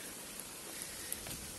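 Steady rain falls on an empty outdoor sulphur hot spring bath in the mountains on an autumn morning, a soft continuous hiss with a few faint drips and no voices.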